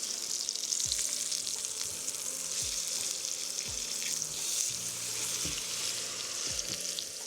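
Food sizzles and bubbles steadily in a GOSO carbon steel pan at about 220–270 degrees, a dense continuous crackle with occasional soft stirring knocks, close and fairly loud with no talking.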